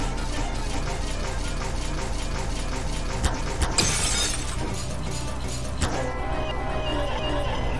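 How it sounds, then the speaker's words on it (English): Glass shatters over and over in a game, with loud crashing breaks in quick succession that peak in a sharp burst near the middle and end in a final smash, set over a dense, constant noisy bed. "We're breaking the glass."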